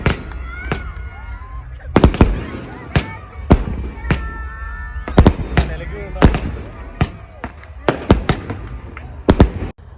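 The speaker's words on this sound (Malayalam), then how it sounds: "ഫയർ വർക്ക്സ് ഒക്കെ അടിപൊളിയായിരുന്നു കേട്ടോ" New Year fireworks in Africa, Tanzania, bursting close by in rapid sharp cracks and booms, irregular and loud, with crowd noise and voices in between.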